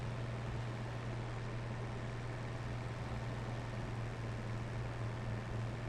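A big old tractor engine droning steadily while driving down narrow roads in the Farming Simulator 25 video game, a constant low hum with a strong steady tone and no voices.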